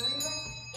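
A handbell rings once with a bright, sustained metallic tone that decays over under a second, heard close in a room during a handbell lesson.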